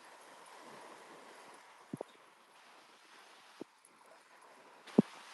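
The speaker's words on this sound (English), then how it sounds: "It's windy today, guys." Wind blows steadily across a beach, a faint, even rush of air broken by a few sharp knocks and a louder thump near the end.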